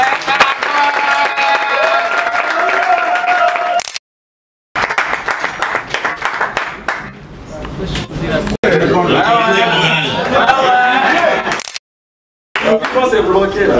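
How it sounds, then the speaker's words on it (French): An audience applauds at a ceremony in the Democratic Republic of the Congo where a footballer is named agriculture ambassador. Bursts of clapping come between stretches of speech and brief silences, with the loudest applause near the end. "Vos applaudissements, s'il vous plaît."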